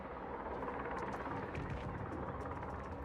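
Helicopter in the video game Quantum Break, a continuous throbbing rotor roar heard close and fairly loud, with light rhythmic pulsing over a thick low rumble.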